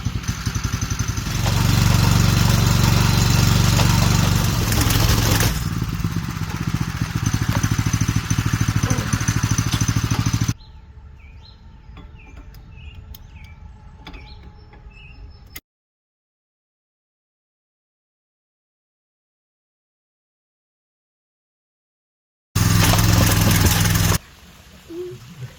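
A petrol engine runs loud and steady for the first ten seconds while post holes are dug for a backyard pavilion. It then drops to quieter background sound, falls to a long silence and returns briefly near the end.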